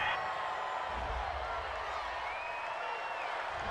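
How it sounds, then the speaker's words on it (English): Home stadium crowd in the Madden NFL 20 football game cheering a fourth-down penalty call against the Chargers, a sustained distant roar with faint whoops, steady and moderately quiet. "This home crowd, they're happy with that call."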